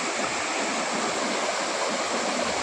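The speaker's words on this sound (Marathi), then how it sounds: "आज आम्ही आलेलो आहोत चिपळूण येथील परशुराम घाटातील सवतसवडा धबधबा येथे" Savatsada waterfall in Parshuram Ghat near Chiplun roars as a dense, steady rush of falling water, loud and close with no pauses.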